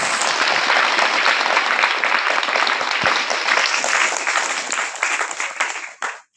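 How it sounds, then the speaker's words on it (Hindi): Church congregation clapping together in a steady, loud burst of applause that fills the room, then tapers and stops near the end. "उनके लिए ताली बजाइए।"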